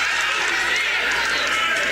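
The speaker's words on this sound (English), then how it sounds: "Crowd is into this game." A crowd at a women's college basketball game roars and cheers in a steady, loud wash of voices and applause that fills the gym without a break.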